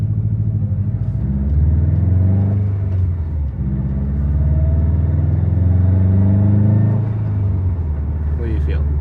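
Subaru STI with an aftermarket exhaust and a new pitch stop mount accelerating from a standstill, a loud, steady low engine drone rising in pitch through the pull, with people talking over it inside the car.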